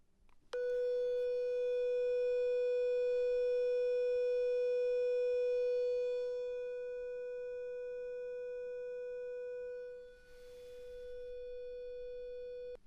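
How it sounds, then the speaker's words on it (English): A steady 500 Hz sine test tone, recorded through a SYNCO Mic-D1 shotgun microphone, holds loud and unbroken for about twelve seconds, with a brief dip in level near the end before it continues. "I'm going to start with a 500 Hertz tone"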